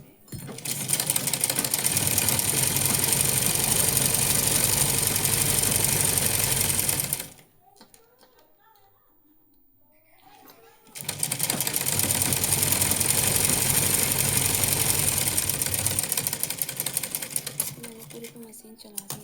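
A sewing machine stitches along the length of dress fabric in two long, rapid, steady runs of close mechanical clatter, separated by a few seconds of near silence.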